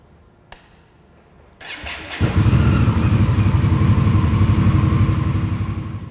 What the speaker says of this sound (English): we'll restart the bike and get it back up to temperature